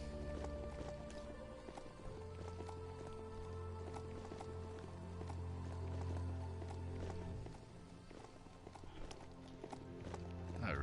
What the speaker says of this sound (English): Ride through Blimdorf on my horse.